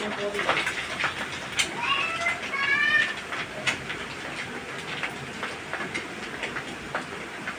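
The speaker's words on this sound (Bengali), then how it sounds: "তো গাইস এখন আমি কদু ঢেলে দিচ্ছি।" Chopped bottle gourd goes into a hot pan with green chillies, setting off a loud hissing sizzle that peaks early and then settles into a steady crackle, with a voice speaking over it.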